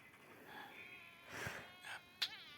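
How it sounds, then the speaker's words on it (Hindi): A fly buzzes faintly in an animated series, its thin whine drifting and rising in a few short swells before a sharp bright accent at the end. "रुको, यहाँ एक मक्खी है।"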